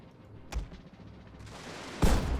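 Gunfire volleys crack out in a video game battle: one sharp shot burst early, then a louder, fuller volley near the end, over a low background rumble.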